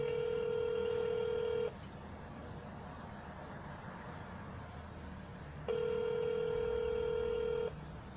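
Two bursts of telephone dialer tones during a cold-calling session, each a steady electronic beep lasting about two seconds, separated by a quiet gap of faint line hiss, with no talking.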